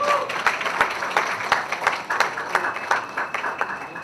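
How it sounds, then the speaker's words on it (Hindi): An audience at a mobile phone and magnetic tablet launch event claps steadily in a loud, continuous burst of applause with scattered sharp individual claps throughout. "एक बार सोलह ताली होनी चाहिए"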